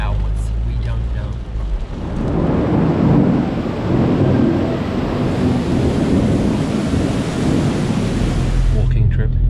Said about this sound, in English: Sunny day today, just turned real rainy.